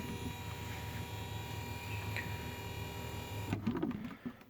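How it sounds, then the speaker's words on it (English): A classic vehicle's windshield wiper washer motor pump runs with a steady mechanical whine and hum for a few seconds, then cuts off into clicks and faint rattles, close and fairly quiet. "you'll hear this guy come on, which is the wiper washer motor pump"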